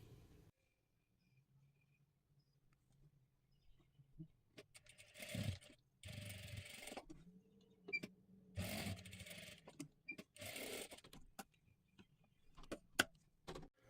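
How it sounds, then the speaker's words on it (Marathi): A sewing machine double-stitches a blouse in several short whirring, rattling bursts separated by quiet pauses and small clicks, close and clear with no talking. "आता इथून आपल्याला हे पूर्ण पॅक करून घ्यायचं आहे आणि डबल शिलाई मारून घ्यायची आहे."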